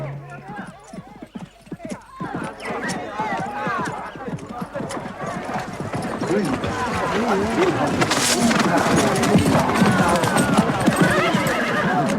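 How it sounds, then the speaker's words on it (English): Hooves clip-clop steadily while horses neigh and whinny repeatedly, growing denser and louder as a crowd of animals moves close by. "the horses are a present from King George"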